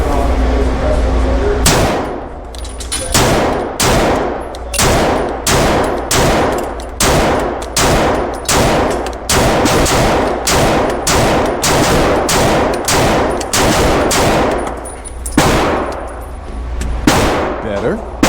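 Handgun shots at a shooting range with a Walther PDP or SIG 226 X Five, a long series of loud, sharp cracks in a fairly steady rhythm with short pauses between strings, close to the microphone.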